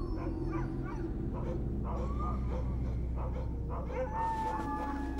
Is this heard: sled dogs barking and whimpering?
yes